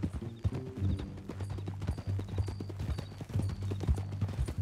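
Steady rhythmic clopping of horse hooves at a walk in the video game Red Dead Redemption 2, close and continuous, with a faint low hum underneath.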